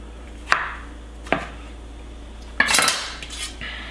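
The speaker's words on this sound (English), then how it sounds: "I'm just going to cube this down a little bit, and I like smaller bite-sized pieces here, about a ½ inch" Knife on a cutting board cubing food into half-inch bite-sized pieces for a side dish, three sharp distinct chops spaced apart, the last followed by a brief clattering scrape, close and clear with no voices.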